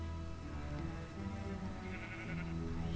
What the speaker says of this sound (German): Und dahin ist ein Schaf.